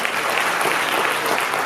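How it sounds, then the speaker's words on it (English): Graduation audience applause, a continuous even wash of many hands clapping, loud and sustained without pause. "Give yourself a round of applause for being here."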